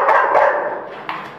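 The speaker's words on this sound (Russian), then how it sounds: "На тренинге 12 собак." Several dogs at a three-day dog training session, mixing service breeds and companion dogs, give a loud bark close by, then fainter yips and barks follow in a short burst.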